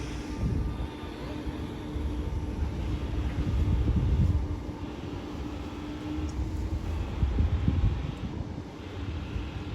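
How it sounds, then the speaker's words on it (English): A Class 319 electric train pulls away from St Helens Junction, heading for Liverpool Lime Street, a steady low rumble swelling and easing over several seconds amid outdoor wind noise, no voices. "And we see that train goes when it departs. Train now leaving"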